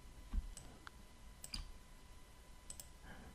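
Several sharp computer mouse clicks, spaced irregularly, close and crisp over a quiet room hum during graphic design work in After Effects.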